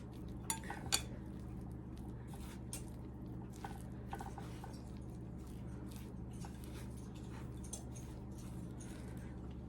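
Thick dough is scooped from the bottom of a heavy bowl and folded into dry flour, making faint, soft squishing and occasional light clinks against the bowl over a steady quiet background hum.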